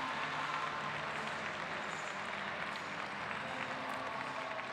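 Sustained audience applause at a show jumping event, the 2019 Saut Hermès, a steady broadband wash of clapping from a large crowd that runs unbroken throughout, fairly distant and even in level.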